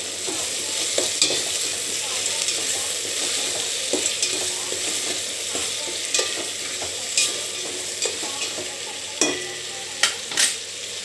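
A curry mixture with ginger paste stirred in a hot pan for mutton curry, a constant sizzle broken by scattered scraping and knocking strokes of the spoon, close with no talk.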